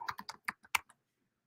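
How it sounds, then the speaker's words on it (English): Fingers typing a search on a computer keyboard, with about eight crisp, uneven keystrokes in quick succession that stop abruptly and leave silence. "Okay, let's type in remark."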